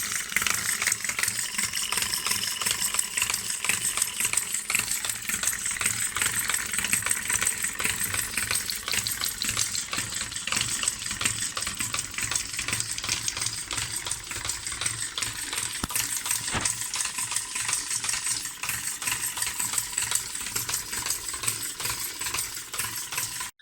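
A homemade four-cylinder combustion engine runs steadily and loudly throughout, a continuous dense mechanical clatter with rattling and knocking texture and no talk over it.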